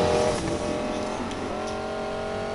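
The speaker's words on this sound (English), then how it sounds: "Oh, here comes that thing. The Osiris from GTA." The Osiris supercar in GTA drives past with a continuous engine roar that is loud at first, then settles into a steadier, slightly fainter drone.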